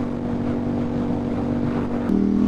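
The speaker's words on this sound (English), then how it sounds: "You turn the throttle off, it's a bit choppy." Engine of a 2008 KTM 990 Super Duke motorcycle running steadily with a throttle change near the end, the tone stepping up as the throttle opens again, close and loud with wind noise.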